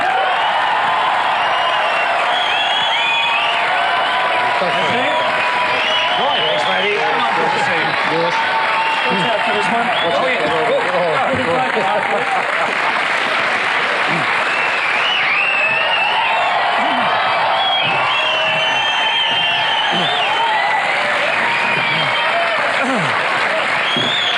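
A studio audience on the 1990s Australian TV show Denton claps and cheers in a long, loud, sustained wave of applause that swells and eases slightly over time.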